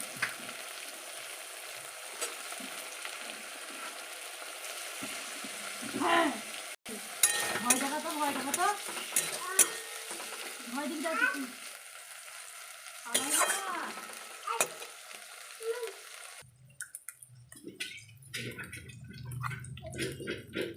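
Chopped tomatoes with chillies tumble into a hot pan for a Katla fish curry, sizzling and frying steadily with bursts of stirring scrapes, fairly close, ending in quieter crackle.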